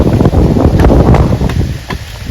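Strong outdoor wind, the kind suited to kite flying at a rural Thai home, roars loud and steady across the microphone, with gusty buffeting bursts and a faint rustle underneath, no voices present.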